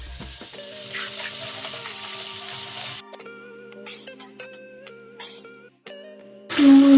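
Ginger paste frying in a pan with cumin and tomato for a fish curry, a steady sizzle for a few seconds that then fades under steady tonal beeps before a loud burst at the end.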